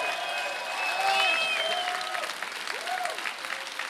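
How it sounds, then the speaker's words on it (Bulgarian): A conference audience applauds in a dense, sustained wash of clapping, with whistles and cheers rising above it throughout. "Somebody clap your hands."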